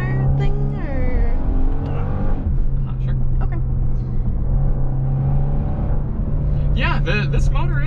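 A 2022 Genesis GV70 3.5T engine revs and pulls in a more aggressive drive mode, a loud steady cabin drone with rising tones that runs under people talking throughout.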